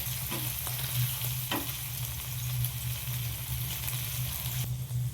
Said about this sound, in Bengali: উল্টে পাল্টে ভালো করে আমি মাছগুলো ভেজে নেব।